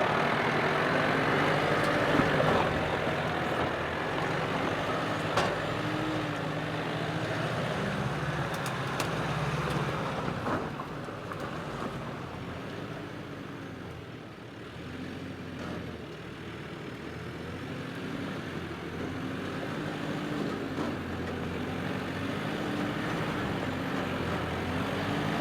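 A 4WD vehicle's engine labours steadily on a steep hill track in the Great Dividing Range, a continuous rumbling drone that swells and dips slightly as the vehicle climbs, with no talking.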